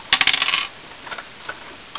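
A small toy die from a Star Wars figure set drops onto a hard surface, giving a quick burst of bright rattling clicks as it bounces, then a few faint ticks as it settles.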